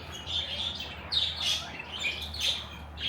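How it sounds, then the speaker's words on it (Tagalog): Birds chirping and tweeting in repeated short bursts over a low steady background hum, fairly close and clear, at the Bohol Lemur and Butterfly Park. "Ay, Mga ibon."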